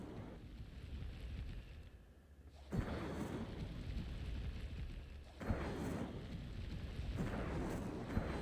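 Fire spell bursts in Hogwarts Legacy: two sudden loud whooshing eruptions of flame, each followed by a sustained roaring rumble, over continuous low noise.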